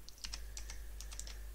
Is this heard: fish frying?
no